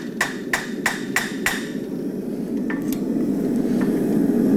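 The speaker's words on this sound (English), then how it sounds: "I've used this hammer, the 24 ounce, because it has a smaller radius on the rounding side." A 24 ounce farrier's hammer strikes a horseshoe to draw quarter clips, five sharp ringing metallic blows in an even rhythm, then two lighter taps over a steady background hum.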